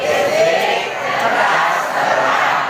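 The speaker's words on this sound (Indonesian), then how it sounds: "tepuk tangan untuk kita semua" An audience of teachers at a workshop opening breaks into applause, a dense, steady roar of many hands and crowd noise filling the room without pause.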